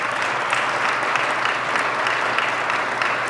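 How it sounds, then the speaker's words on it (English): A crowd at a talk by Hon. Patty Hajdu applauds steadily for a few seconds, a dense, even wash of many hands clapping at moderate loudness with no voices over it. "go ahead and clap"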